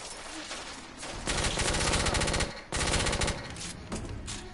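Enemy shotgun fire in the video game The Order: 1886, loud, dense bursts of overlapping gunshots that run almost continuously, with one brief break midway and no talk.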